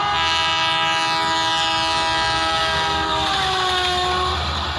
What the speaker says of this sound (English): Trains,